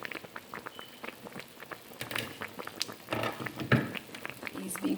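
Meat and stockfish boil in a pot for Nigerian bitter leaf soup, giving soft irregular bubbling and popping that grows busier and louder toward the end, heard close up.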